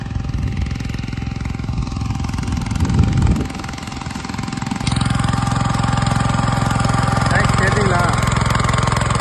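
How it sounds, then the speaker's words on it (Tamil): Tractor driving through a farm field doing inter-cultivation and earthing up crops: loud, steady diesel engine drone with a rattling, chugging rhythm that steps up in pitch and intensity partway through, continuous and close. "வாங்க வண்டி எப்படி ஓட்டுறான்னு பார்க்கலாம்"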